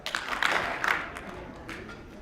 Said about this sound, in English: If you can hear me, clap twice.